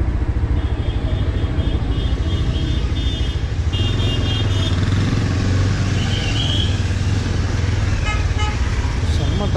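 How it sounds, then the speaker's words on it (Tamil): Heavy road traffic in Darjeeling, with car and motorcycle horns honking repeatedly over a constant loud rumble of engines, and people talking throughout. "செம்ம டிராஃபிக்காக இருக்குது"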